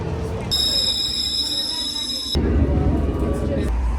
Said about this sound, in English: I really love a train ride